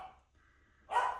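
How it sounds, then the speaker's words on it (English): A dog barks at a door, wanting to be let out into the snow; two short yips separated by a pause, fairly close and clear, with no talking. "Excuse my dog"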